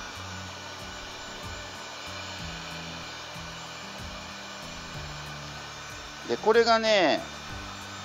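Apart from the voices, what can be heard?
hair dryer heating heat-shrink tubing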